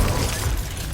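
Glacius, an ice spell in Hogwarts Legacy, is cast with a dense, loud burst of crackling, shattering noise that lasts about a second without letting up, with no voice over it.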